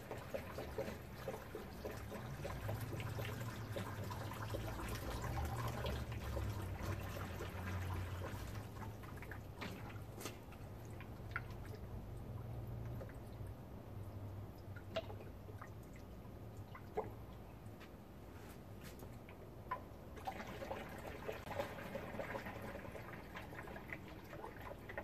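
Distilled water poured into the radiator of a 2006 Honda Ridgeline, a faint continuous trickle and drip of liquid filling, heard close and quiet without talk.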